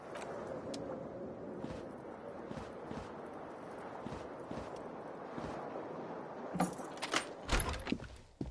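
Keys jingle on an aluminium keyring in a video game, sounding as a series of light metallic clicks and taps with a louder jangling cluster near the end.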